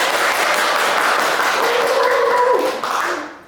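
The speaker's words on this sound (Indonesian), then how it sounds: "Tepuk tangan yang meriah." Audience applause welcoming a guest at an accounting study program podcast event, fairly loud clapping with faint tonal sounds mixed in, fading out over the last second.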